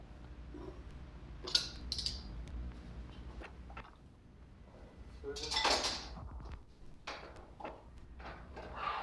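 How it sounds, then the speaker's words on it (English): Kitchen clatter of cutlery and dishes being handled, with scattered clinks and knocks spread unevenly across the stretch, a louder cluster in the middle, at moderate distance with low room noise. "Cutlery."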